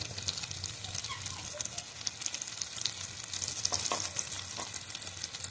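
Ground spices, including chilli, cumin and coriander powder, fry in a pan for a soybean curry, giving a steady, moderate sizzle with light stirring scrapes throughout.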